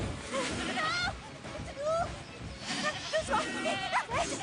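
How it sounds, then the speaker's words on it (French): A goat bleats several times in wavering, nasal calls, close and loud, while a person speaks excitedly between and over the cries. "Gentille chèvre, gentille et très très belle."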